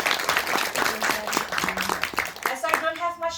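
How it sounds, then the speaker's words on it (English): Audience clapping for a panelist at a sustainable development forum, a scattered round of applause from a hall, moderate and fading, with speech over and after it. "So, round of applause to Dr. Krungthepkreetha."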